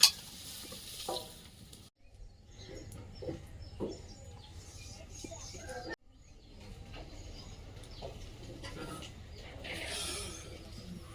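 Soybean chunks frying in hot oil in a home kitchen give a faint, steady sizzle with occasional stirring clatter, broken by two brief cuts, while birds call softly in the background.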